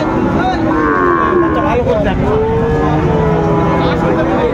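Friesian and cross-breed bull calves moo loudly and repeatedly at the Raniganj cattle market, several overlapping calls close by over a constant crowd murmur.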